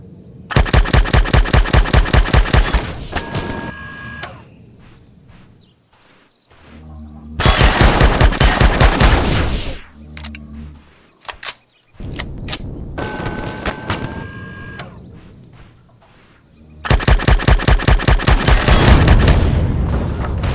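Gunfire in Empyrion Galactic Survival, loud rapid automatic bursts of several seconds each, repeating three times with quieter mechanical hum and clanks between them.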